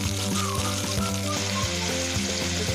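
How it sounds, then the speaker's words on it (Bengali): Meat frying with garlic in a pan, a loud close sizzle running throughout, over a steady humming drone with faint rhythmic tonal pulses in the background. "মাংসগুলো লাল লাল করে ভাজা ভাজা করে রান্না করে নিতে হবে"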